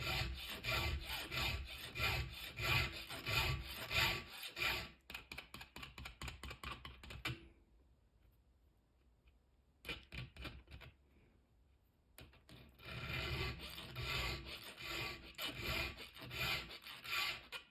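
A round 7/32 file sharpens a chainsaw tooth by hand. Rhythmic rasping strokes come up close, pause for a few seconds and then resume at the same steady pace.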